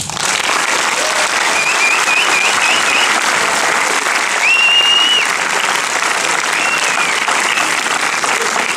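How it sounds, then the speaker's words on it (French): A large crowd applauds at the French film premiere of Les Méchants, loud continuous clapping throughout, with a few whistles cutting through the roar. "j'espère qu'on fasse vraiment des applaudissements pour Samy Nasseri qui a ouvert les portes"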